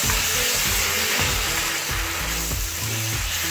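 Tomato stirred into a hot frying pan for vegan spaghetti alla norma, giving a loud, continuous sizzle with soft scraping of the spoon and no talking.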